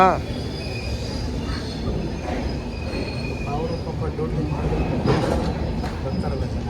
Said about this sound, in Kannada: ಇವಾಗ ಮೈಸೂರಿಗೆ ಬಂದಿದ್ದೀವಿ ರೈಲ್ವೆ ಸ್ಟೇಷನಲ್ಲಿ ಇದ್ದೀವಿ